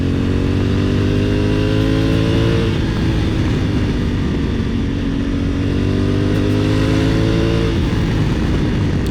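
Loud, close 2021 Honda Africa Twin motorcycle engine revving up through its range in third gear, rising in pitch past 6,000 rpm, dipping briefly, then climbing again.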